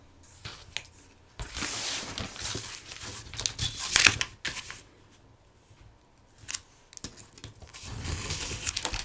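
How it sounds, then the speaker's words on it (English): A cardboard box being cut along a ruler, with rough scraping and crinkling bursts in several separate passes and quiet gaps between them, heard close up with no talking. "I'm going to put my ruler down so that we can cut a halfway even piece."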